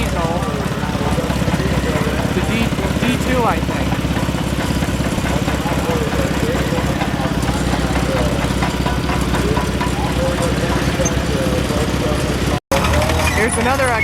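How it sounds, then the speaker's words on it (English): Caterpillar D2 diesel crawler tractor running steadily at an outdoor gas and steam engine show, a continuous low throbbing engine close by with a brief cut near the end, crowd noise and voices mixed in throughout. "Here's a Caterpillar crawler tractor, it's a diesel."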